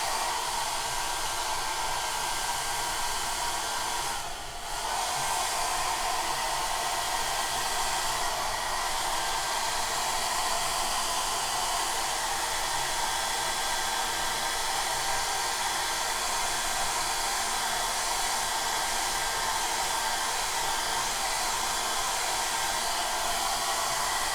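A hair dryer blows hot air over paint on a canvas, a loud, continuous close whir with one brief dip in the middle and no talking.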